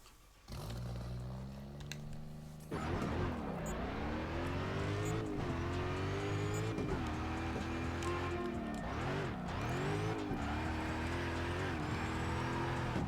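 A car engine in a CarX racing video game roars and revs continuously, rising and falling in pitch as it accelerates, loud and steady with faint tire noise.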